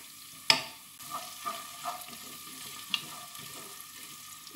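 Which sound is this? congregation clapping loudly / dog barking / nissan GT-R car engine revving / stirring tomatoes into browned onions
stirring tomatoes into browned onions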